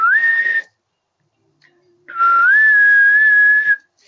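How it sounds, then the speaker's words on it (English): A person whistles two clear, pure notes close by, a short rising whistle followed after a pause by a longer held tone that lifts slightly and sustains before stopping. "sorry for whistling in your ear"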